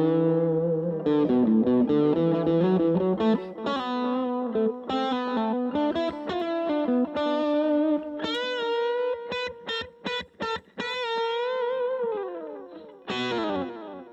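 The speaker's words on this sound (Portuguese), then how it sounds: "Vou usar aqui o overdrive só para mostrar melhor." An electric guitar played through an overdrive pedal on a pedalboard, with sustained chords and single-note runs, then choppy staccato stabs and a final ringing chord, loud and alone with no talking.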